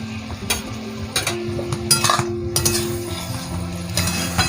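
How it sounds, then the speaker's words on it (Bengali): Spine gourd stirred with grated coconut and green chillies in a pan, a few light utensil clinks and scrapes over a steady low kitchen hum. "হালকা একটু নেড়ে চেড়ে নিচ্ছে।"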